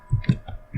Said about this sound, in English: hit the enter key on the keyboard